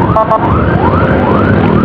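A Puskesmas Majalaya ambulance siren wails in rising and falling sweeps with a brief beeping burst at the start, loud and close over road traffic rumble on a motorbike ride.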